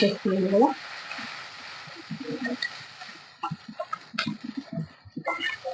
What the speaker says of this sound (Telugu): కారం కూడా మంచి ఆయిల్లో వేగాలి